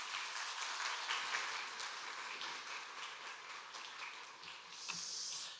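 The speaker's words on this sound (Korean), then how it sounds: "우리 기쁨으로 함께 환영의 박수하겠습니다" A church congregation at a Sunday morning service claps in welcome for a guest preacher, a soft, even wash of many hands that fades out at the end.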